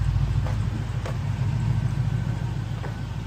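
A Pontiac GTO idles after a cold start, a steady low rumble close by with a few faint ticks on top.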